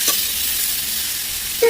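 Mutton blood, salted and stirred smooth, sautéing in a pan at home gives a steady soft sizzle for under two seconds, with a brief stir or clink at the end and no talking.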